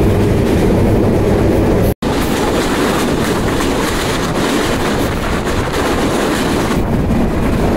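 The Kapotaksha Express runs on after leaving Ishwardi junction in Bangladesh, a loud continuous rumble of wheels and rattling carriages with wind buffeting, broken once by a brief dropout.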